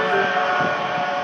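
A Tokaido Line local train for Atami departing platform 12 at Shinagawa station: a loud, steady tonal hum with layered pitches holds close by for a short stretch.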